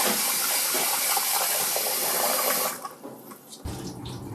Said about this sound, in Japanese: お米を洗うね。 米を洗う。 米を洗う。